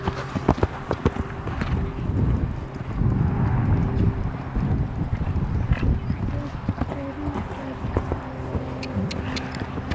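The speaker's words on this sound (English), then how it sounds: "Canter, please, riders, all canter." A horse cantering in an arena during a riding lesson, rhythmic hoofbeats thudding steadily and fairly close while an instructor's voice calls out over them.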